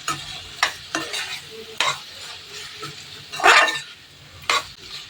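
Tomatoes and rock salt are stirred in a frying pan over a low sizzle, with a spoon scraping and clinking against the metal in irregular bursts, close and fairly loud, with no talking.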